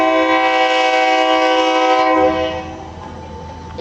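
A train sounds a long, loud, steady horn as it arrives through Maeklong Railway Market in Thailand, the blast held for about two seconds and then cutting off into the rumble of the approaching train.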